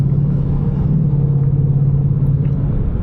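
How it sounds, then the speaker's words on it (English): Steady low engine rumble and road drone heard from inside a car while driving, constant and close with no talking over it. "Or even think about right now, I'm driving"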